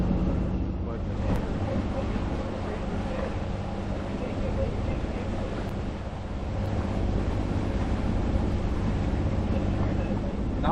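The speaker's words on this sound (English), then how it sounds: "running the motor for a bit" A sailboat's motor runs steadily while cruising through Baie Fine in the North Channel, a continuous low engine drone mixed with water and wind noise, loud and unbroken throughout.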